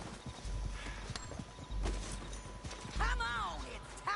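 Horse hooves clip-clop in the video game Red Dead Redemption 2, a steady run of thuds under game noise, with a horse whinny rising near the end and voices speaking over parts of it.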